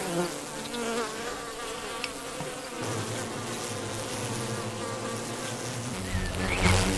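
Honeybees buzz around their hive in a close, continuous drone, with individual bees passing nearer and swelling louder toward the end.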